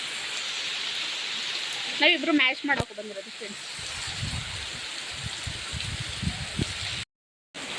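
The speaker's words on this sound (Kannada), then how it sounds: "ಫುಲ್ಲು ಮಳೆ, ಎಲ್ಲ ಕಡೆ ಮಳೆ ಇದೆ." Heavy rain falls over foggy hills near Virajpet, a steady dense hiss that fills the whole stretch, with a short burst of people talking near the start.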